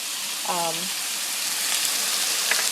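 Chicken sizzling in garlic oil in a pan, a steady, moderately loud hiss throughout, with a brief voice-like tone near the start.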